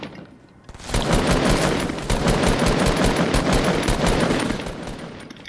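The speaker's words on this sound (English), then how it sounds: "I'm shooting at him." Rapid automatic gunfire in Fortnite, a dense burst of shots that starts sharply after a quiet moment and runs loud and close for several seconds before easing off slightly.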